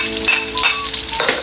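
Garlic and onion sautéing in hot oil in a pan for Filipino ginataang gulay, a steady close sizzle with brief scraping stir sounds, no talking.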